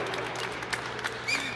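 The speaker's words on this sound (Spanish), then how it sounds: "Un aplauso también para el señor Corea." Audience applause at a FIFA champions tournament event in a hall, steady mid-level clapping with a faint murmur of crowd voices and a whistle near the end.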